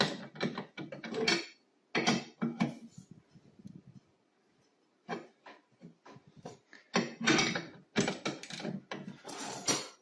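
A socket wrench ratchets in quick bursts of dry clicking while a ceiling cassette-head mini split is installed, with close, loud runs separated by short pauses.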